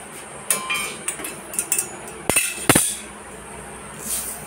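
Metal clanks and clinks close by as a kadai is set down on the stove for making semolina halwa, a run of uneven knocks and scrapes with two sharper hits in the middle.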